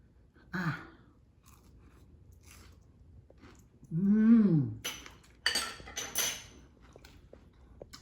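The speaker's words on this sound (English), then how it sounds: "Now I'm going to taste it. Make sure you get a crouton." Caesar salad with crunchy croutons is chewed close to the microphone in short crunching bursts. There is a faint clink of cutlery and a brief hum-like vocal sound partway through.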